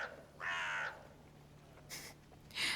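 A crow in an animated Viking-era drama caws several times, two long harsh calls separated by a pause, then a shorter burst, standing alone over a faint background hum.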